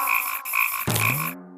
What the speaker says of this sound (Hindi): भागो, मेंढक वापस आ रहा है।